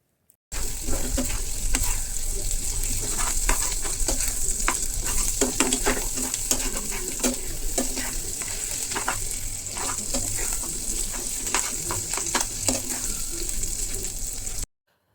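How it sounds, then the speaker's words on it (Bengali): Steady sizzling of egg and spices frying in a pan, with repeated scraping and stirring strokes throughout, close and continuous. "এখন হচ্ছে ডিমটা দিয়ে ভালো করে নাড়াচাড়া করতে হবে।"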